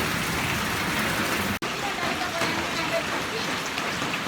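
Steady rain pouring over paddy fields in Batticaloa, a dense continuous hiss close by with one brief cut partway through.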